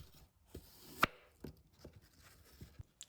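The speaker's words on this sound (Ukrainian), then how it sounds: "Я нарізаю крупним кубиком, можна нарізати як завгодно" Several sharp knife chops cutting apples into large cubes on a cutting board, irregularly spaced, close and crisp, with quiet gaps between strokes.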